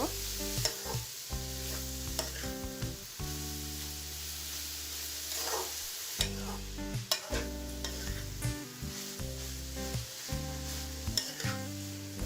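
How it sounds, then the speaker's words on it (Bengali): Taro (kochu) and shrimp fry in a pan over medium heat while being stirred, with a constant close sizzle broken by repeated scraping strokes of a spoon against the pan. "এখন এই সব কিছু আমি নেড়ে নিচ্ছি আর চুলা রাস্তা একদম মিডিয়াম করে আমি এই কচুটা ভেজে নেব"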